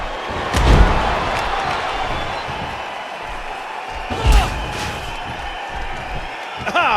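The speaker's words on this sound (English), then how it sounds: "Steel and flesh collided." Steel chair strikes against a wrestler in the WWE '12 video game, two loud metallic slams a few seconds apart with a smaller hit at the end, over steady arena crowd noise.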